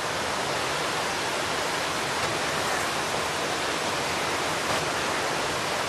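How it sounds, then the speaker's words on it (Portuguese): A waterfall in a natural setting roars with a constant, dense rush of falling water, steady and unbroken, with no voices over it. "Por causa da queda d'água."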